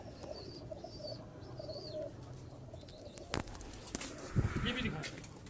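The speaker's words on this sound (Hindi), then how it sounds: "ये सुरखा कबूतर ज़रा खोल देते" Surkha pigeons at a breeder's farm in inner Lahore, soft cooing and a few chirps, then a brief burst of wing flapping and cage rattling near the end, with quiet voices in the background.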